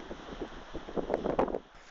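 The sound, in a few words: gusting wind on a cliff top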